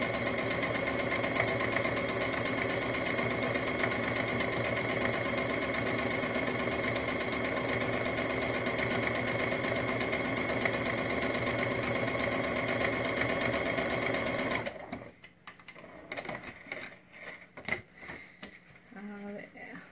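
A home sewing machine with a standard presser foot runs a top stitch along a pencil case, a steady continuous motor whir lasting most of the time before stopping, followed by quieter handling noises.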